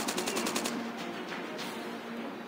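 Rapid automatic gunfire from Call of Duty Mobile gameplay, a fast burst of shots followed by quieter scattered reports, with no talk.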